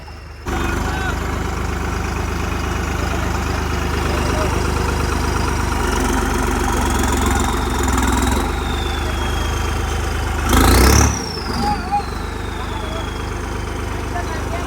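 A tractor engine idles with a steady low rumble throughout, with a brief louder burst near the end and a faint whistle-like tone drifting above.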